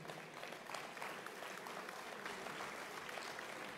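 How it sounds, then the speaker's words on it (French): Audience applause at a business association meeting in France, a steady dense wash of many hands clapping throughout, moderately distant and even, with no voices on top. "Et je voudrais vraiment qu'on les applaudisse."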